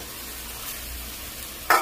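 Fried potato and pointed gourd tipped into hot spice paste in oil, a short steady sizzle ending in a sharp louder burst as the pieces hit the pan.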